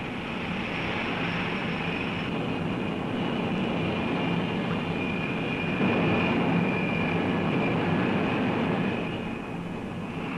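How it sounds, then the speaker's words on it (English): Steady, continuous rotor and engine drone from guard helicopters hovering in the background during a 1965 operation, holding at an even level and swelling slightly for a few seconds, with no talking. "Guard helicopters in the background."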